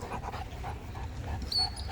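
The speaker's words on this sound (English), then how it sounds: "Oh, are you a bad dog?" A dog at a dog park pants rapidly and rhythmically close by, with quick repeated breaths throughout.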